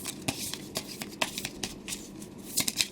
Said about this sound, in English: Wow, I am horrible at shuffling.